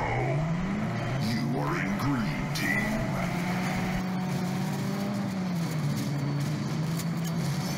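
A car engine in the vehicular combat racing game Gas Guzzlers Extreme, revving and shifting pitch up and down, with a voice talking over it.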